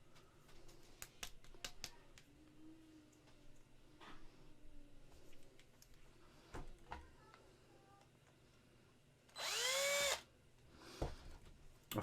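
Power drill boring into a resin model kit while pinning a Predator figure: one loud whirring burst of about a second near the middle, amid scattered ticks and clicks of handling.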